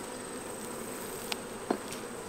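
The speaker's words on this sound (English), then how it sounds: "That bee just about flew in right between the patty and my thumb." Honey bees buzz steadily around an open hive while a beekeeper works it in summer, a constant close swarm hum with a couple of brief louder passes as single bees fly near.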